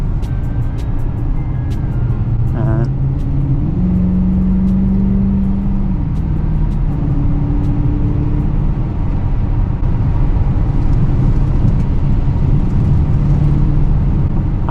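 A Dodge Challenger R/T engine in sport mode hums loudly and steadily from inside the car while driving in snow, with a few rising revs over constant road roar.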